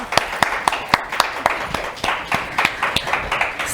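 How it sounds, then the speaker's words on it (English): A small panel audience claps to welcome the guests: a handful of distinct, close hand claps in an uneven rhythm over a soft background of lighter clapping, with no speech. "Everybody give them a round of applause."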